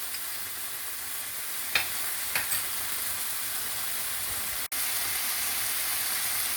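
Garlic and ginger paste fries in a pan for a mutton curry, giving a steady, close, even sizzle with a few brief stirring scrapes and one short dropout, and no voices.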